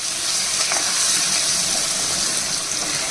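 Onion pieces frying in a pan give a constant bright, hissing sizzle, close and fairly loud with no talking.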